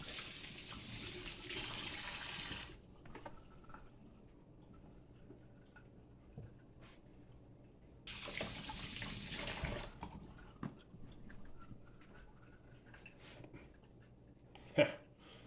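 Hot tap water rinsing dye from a bowling ball, two loud bursts of running faucet water a few seconds apart, with quieter handling noises and a sharp clunk between and after.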